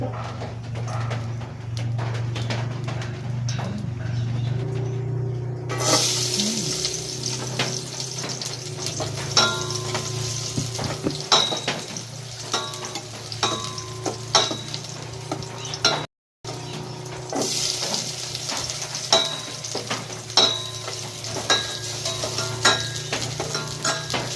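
Cooking oil heating in a pan at the start of a home Filipino dish of adobong kangkong and fish paksiw, giving a steady close sizzle and crackle with faint stirring clinks, no voices.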